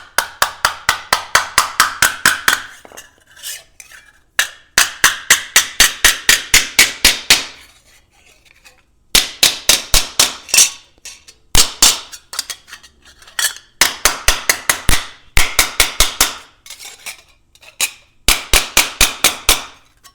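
Hammer striking a copper feather, in bursts of rapid, evenly spaced ringing metallic blows with short pauses between runs, loud and close with no talk.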